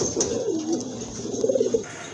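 A pair of red-tailed pigeons at a pigeon farm coo softly in a few low, rolling phrases, close by and alone, with no talking.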